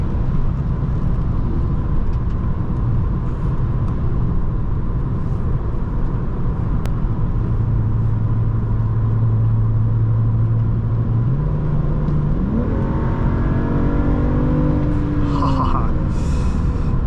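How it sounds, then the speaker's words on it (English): A 2011 BMW 335i engine hums steadily inside the cabin while driving on the road, a low constant drone with a rising tone near the end as revs climb under light throttle, road rumble underneath. "There's plenty of low end torque, as you can tell. I'm not even applying the gas much."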